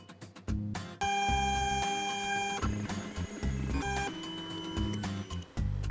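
A LulzBot 3D printer prints a vise model, its stepper motors whining in shifting tones and stopping and starting in quick bursts, close and alone.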